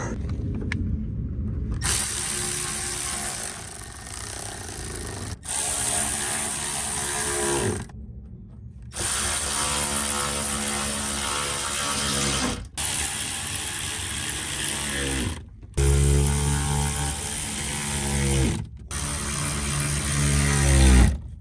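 A power tool driving the wheel well liner bolts on a 6th-gen Camaro SS, with loud whirring runs broken by short pauses, about six bursts in close succession.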